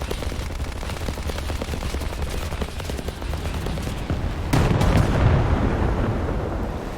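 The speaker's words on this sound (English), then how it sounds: "I'm gonna zoom in and drop bombs on Barnaby over here." Bombs from a Blenheim bomber in War Thunder burst with a deep rumbling explosion partway through, rising out of a steady droning engine and fading into a lingering low roar.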